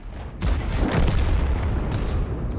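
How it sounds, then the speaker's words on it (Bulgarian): A heavy artillery round fires and lands in a video game, heard as a loud booming blast with a rumbling low tail that holds steady, followed by a second sharp crack near the end. "Чувам изстрела, след това чак излиза снаряда."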